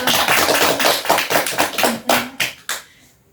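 A small group in a counselling session claps for Mbak Putri, a brisk burst of close hand-clapping that thins into a few last scattered claps and stops.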